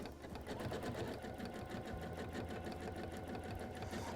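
A free motion sewing machine stitches thick chenille yarn onto fabric, running steadily at a fast, even rhythm close up, with no talking.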